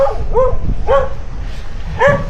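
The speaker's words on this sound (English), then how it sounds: "This dog is gonna bark at me." A dog barks three times in short, loud, evenly spaced bursts at close range near a boat at low tide.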